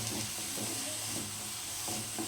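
Onions frying on a medium flame for a mushroom gravy, a steady soft sizzle and hiss from the pan, fairly quiet and continuous with no talking.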